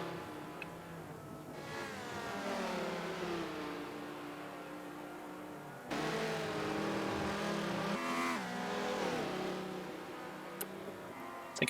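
A prototype race car in a Le Mans endurance racing game, its engine whining and revving as it passes, the pitch sweeping up and down across several gear changes, loud and steady with no voices.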